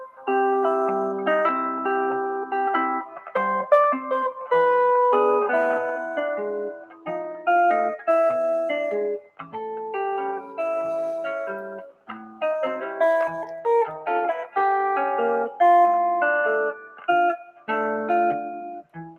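Jazz guitar plays a tune in a busy chicken-picking style, clean plucked notes in quick snappy runs and chords with short pauses between phrases, alone and unaccompanied.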